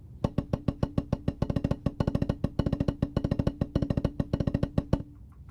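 Snare drum double-stroke roll played evenly, crisp paired strokes in a steady rapid stream with consistent volume, close and dry, fading out at the end.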